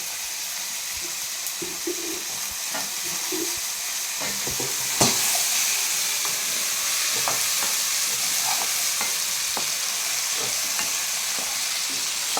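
Drumstick pieces fry in a pan with tomatoes for an egg drumstick curry, giving a steady sizzle with occasional stirring scrapes and clinks that hold at an even level throughout.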